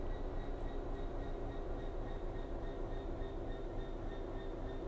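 A military cargo train in Train Sim World 5, rolling steadily with a continuous rumbling drone, faint rhythmic wheel clatter and a thin high whine, at moderate loudness without talk.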